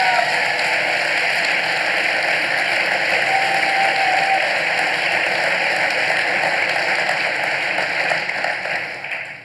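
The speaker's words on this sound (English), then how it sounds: "please give a warm round of applause to my guests" Sustained audience applause in an event hall welcoming two guests to a discussion, a steady dense wash of clapping at constant loudness that tapers off near the end.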